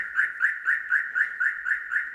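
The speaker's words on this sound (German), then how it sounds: "bekommen wir gleich eine akustische Warnmeldung, dass wir uns von dem Fahrzeug entfernen sollen" Radar-module car alarm on an Audi with Keyless Go sounds a warning: a steady run of eight evenly spaced chirping electronic beeps, each a short rising tone, repeating at a quick regular pace, fairly clear with no talk.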